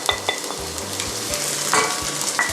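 Garlic fries in olive oil in a pan over medium heat, with a steady sizzle and a spatula scraping and stirring in a repeated rhythm close by.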